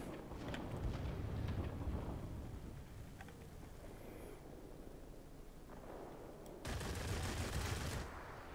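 Aircraft guns fire in the video game World of Warplanes, with rumbling bursts under steady engine and wind roar, a louder burst near the end; no talking.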